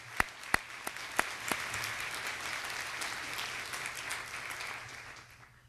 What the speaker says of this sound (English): Let's give all our storytellers another round of applause.